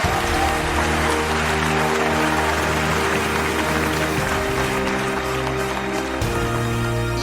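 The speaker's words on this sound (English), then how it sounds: "A round of applause, please." Round of applause at a comedy sketch awards finale, a dense, steady wash of clapping that continues evenly throughout, with music-like tones underneath and no spoken voice.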